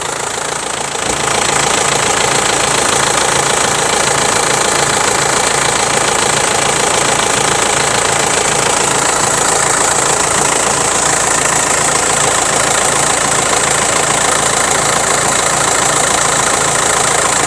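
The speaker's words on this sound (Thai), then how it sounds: "ฟังเสียงเครื่องยนต์นะครับ เครื่องยนต์เงียบ" An Isuzu Dragon Eye pickup truck's diesel engine idles steadily close by, a constant clattering rumble with no change in pace, and no voices.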